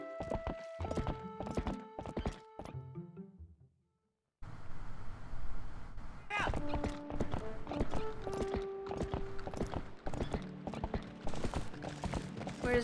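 Horse hooves clip-clop steadily in the video game Zelda: Twilight Princess HD, with crisp, evenly spaced hoof strikes alongside game sounds and chimes, pausing briefly mid-clip before resuming.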